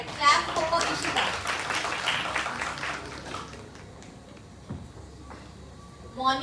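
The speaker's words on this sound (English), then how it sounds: "Alright, clap for Ishita." A small group claps for a contestant at a college English department freshers' party, the clapping strongest at first, then thinning out and fading, with voices talking in the background.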